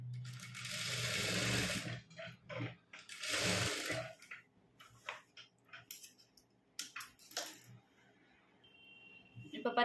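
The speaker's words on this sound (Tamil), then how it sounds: "நம்ம ஸ்டிச் பண்ணி எடுத்துட்டோன்னா அந்த நெக்கு டிசைன் மேலேயே நான் வந்து ஸ்டிச்சிங் போட்டுட்டு" A sewing machine stitches along the neckline of a churidar top in two sustained bursts of close, steady running, followed by scattered short clicks and handling noises with brief pauses.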